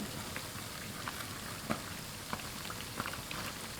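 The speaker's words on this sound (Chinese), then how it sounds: "炸制过程中，我们要不断的翻面，防止上色不均匀" Small fluffy dough cakes deep-fry in hot oil with a dense, even crackling bubble, dotted with a few sharper pops close by.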